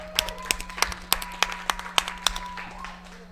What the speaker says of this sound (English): Can we get a round of applause, folks, for Slardar?